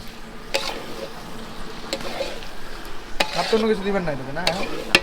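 Duck meat being cooked into kala bhuna is stirred in a pan, with rhythmic scraping strokes over a continuous sizzle and a brief voice in the background.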